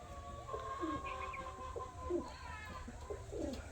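A Kalanka pigeon coos in repeated soft, low calls, close and fairly quiet over faint background hum.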